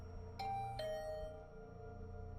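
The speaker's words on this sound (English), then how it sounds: "The bell rang again." A two-tone ding-dong doorbell rings in The Hundred Line: Last Defense Academy, two quick chimes close together with a ringing tail over a low, steady game music bed.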